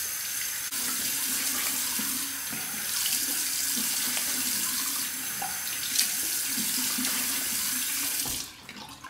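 Tap water runs steadily from a faucet into a sink for about eight seconds, a continuous close splashing hiss while a man warms his face before a straight razor shave, then cuts off near the end.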